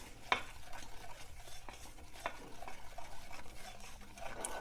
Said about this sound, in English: we'll stir that to where it's all wet